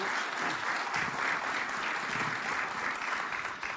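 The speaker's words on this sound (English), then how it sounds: "let's give him a round of applause" A conference audience at ShmooCon applauds a first-time speaker, a dense, steady wash of clapping that fills the room at moderate level throughout.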